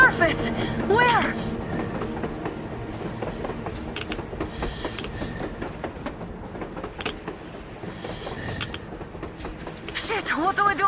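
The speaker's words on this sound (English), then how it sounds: "A train! A damn train on the surface!" Train rolling on rails in the Metro Exodus video game, a steady rumbling clatter with metallic screeches and squeals rising near the start and end, under game music and voices.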